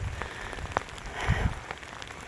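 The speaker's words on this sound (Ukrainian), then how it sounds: "Дощ все тільки посилюється і посилюється." Steady heavy rain pattering on a surface in a Ukrainian village in late autumn, with a few louder drops and low rumbling thuds, no voices.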